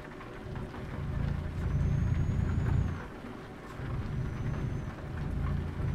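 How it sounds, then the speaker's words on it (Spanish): Heavy rain during a truck drive in Euro Truck Simulator 2, with a steady wash of downpour rising and falling in intensity over a low engine rumble. "aquí la lluvia sí está intensa"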